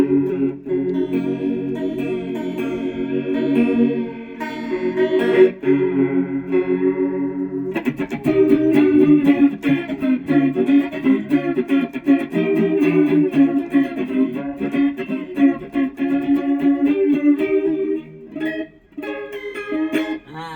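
An electric guitar through a Korg AZ3000G multi-effects unit plays sustained chords and picked notes with heavy chorus and modulation, swirling and shimmering continuously with no talking.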